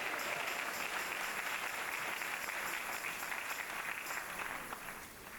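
A church congregation applauds the building committees at a Church of Pentecost building dedication in Canada, a dense, even wash of clapping that holds steady and softens slightly toward the end.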